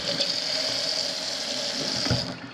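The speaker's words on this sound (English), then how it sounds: "We're going to pour the cold water on this." Cold water pours from a newly installed fixture in a new-construction house in Forney, a steady rushing pour running continuously, close and fairly loud, with a brief clunk near the end as it tapers off.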